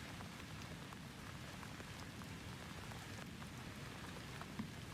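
A steady gray drizzle of rain falls continuously, a soft, even patter with faint scattered drops, very quiet and unbroken throughout, with no voices.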